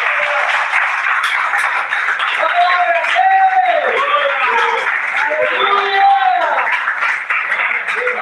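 A church congregation claps and cheers loudly during a worship service, dense sustained applause with shouting voices mixed in over it.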